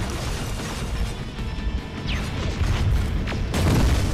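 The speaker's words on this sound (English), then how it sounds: "Grenade out." Heavy, close, loud blasts and crashing debris from grenade explosions during combat in the shooter Terminator: Resistance, with a dense rumbling low end and a sharper burst near the end.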